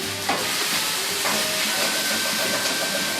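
Leftover fried rice frying in a pan gives a steady, loud sizzle and hiss with faint stirring scrapes, continuous from start to finish.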